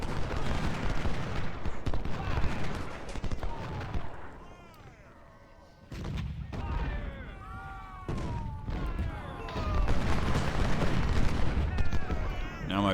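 Artillery and gunfire in Ultimate General Civil War, a battlefield mix of distant booms and rattling shots under game music, with a short quieter lull partway through.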